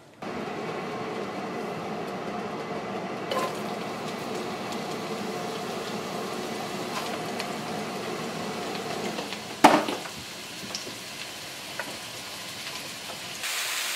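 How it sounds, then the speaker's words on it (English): Steady hissing sizzle of wild milky cap mushrooms frying in a hot pan, continuous throughout with a brief clatter near the end. "We've got a pretty good mess here that are heading directly into the frying pan."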